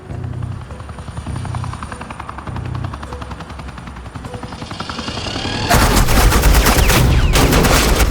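Suppressing fire in an animated Batman cartoon scene, a low helicopter-like drone that bursts into loud, dense rapid gunfire in the final seconds.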